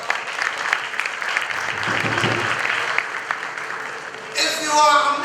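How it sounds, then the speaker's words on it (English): Applause from a graduation ceremony crowd at an international school, a broad steady wash of clapping lasting several seconds, with a voice and brighter noise rising near the end. "A round of applause for DPSI."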